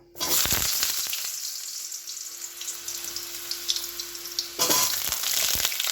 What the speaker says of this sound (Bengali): এবার এর মধ্যে আমি এই আলু পেঁপে কাটা আছে মাছের ঝোলের, এগুলো আমি হালকা করে ভেজে নেব।